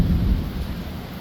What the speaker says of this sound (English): nothing like a good thunderstorm to start the morning